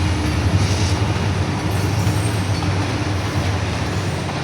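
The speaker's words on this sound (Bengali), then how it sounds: "চলে এসেছে ট্রেনটি।" Long passenger train running from Kamalapur toward Chittagong rolls past nearby, a steady loud rumble of wheels and carriages with faint squeals, continuous from start to end.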